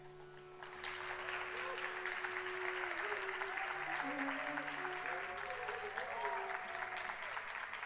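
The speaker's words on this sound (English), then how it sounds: "the loud applause itself tells us how amazing it has been" Loud, sustained audience applause fills a hall at an Arangetram, a debut classical dance recital, steady from nearly the start to the end, with no voices talking over it.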